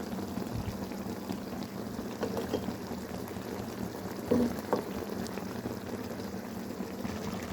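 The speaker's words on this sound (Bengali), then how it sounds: "মাছ ভাজি ফ্রাই হয়ে আসছে, এখন ধনেপাতা দিয়ে একটু পরে নামিয়ে নেব।" Fish fried in a pan keeps up a dense, even bubbling sizzle throughout, with a couple of faint clinks partway through and no talk.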